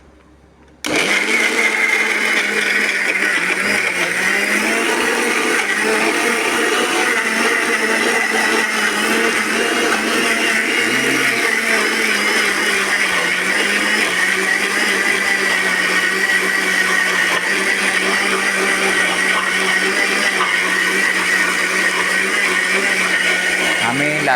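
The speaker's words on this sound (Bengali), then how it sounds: "ব্লেন্ডারের আওয়াজের জন্য বোঝা যাচ্ছে না।" A kitchen blender whirs continuously at high speed, blending a white chickpea batter with sugar; the loud, steady motor drone starts abruptly after a brief pause and runs unbroken to the end.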